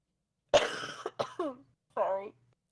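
A person coughs sharply and close, a few quick harsh bursts followed by another short cough, in a quiet room during a podcast-style conversation.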